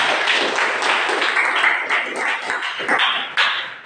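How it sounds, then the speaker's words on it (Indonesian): A classroom group applauds after a presentation on Islamic versus conventional banking, the clapping coming in uneven, bursty waves that swell and fade over a few seconds. "Tepuk tangan semuanya."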